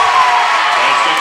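Broad crowd noise fills a high school boys basketball gym, Westminster versus Westfield, as fans cheer a made layup, a steady dense roar with no breaks through the short moment.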